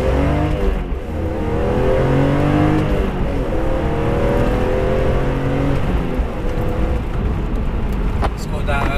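BMW E46 M3 with stock exhaust, its engine droning and revving steadily throughout with a light, raspy tone, heard from inside the cabin while a voice talks over it.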